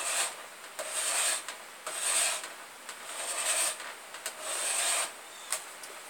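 A hand tool scrapes yew wood while an English longbow is being shaped, a series of raspy back-and-forth strokes with brief pauses between passes, fairly quiet and close.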